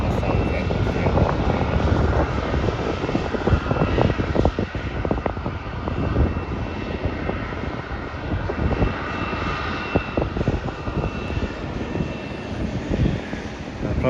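A fixed-wing airliner comes in to land at Melbourne Airport from the south end, its engines giving a steady, broad roar that holds at a moderate distance throughout, with outdoor wind rumble and no talk.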